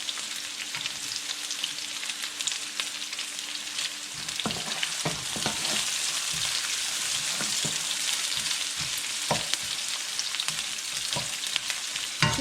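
Garlic and onion sautéing in a pan for beef pares, a steady close sizzle with scattered sharp clicks and scrapes of stirring, no talking.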